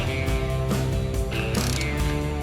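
A ratcheting torque wrench tightens bolts on the engine of a Toro Timecutter SS4200 zero-turn mower, making loud, close, repeated clicking pawl sounds in short bursts, with no one speaking.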